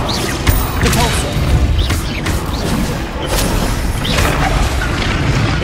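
A Repulsor spell blast in Hogwarts Legacy lands amid a flurry of combat, with booming thuds and crashing impacts repeating loudly over a constant rumble of battle noise.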